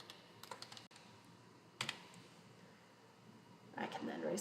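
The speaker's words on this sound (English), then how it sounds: "I'm going to type the word then." Keys tapped on a computer keyboard to type a single word while building a chart in Google Slides, a few sparse, close clicks and a brief burst of quick taps, with quiet pauses between.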